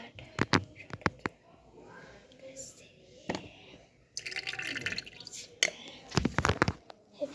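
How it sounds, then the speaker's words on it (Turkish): Liquid poured out during a home experiment, splashing and trickling in short bursts, with a voice talking throughout. "hepsini mi döksem diye düşünüyorum şu an"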